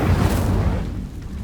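The Incendio fire spell goes off in Hogwarts Legacy as a single short, loud burst with a booming low end that fades quickly.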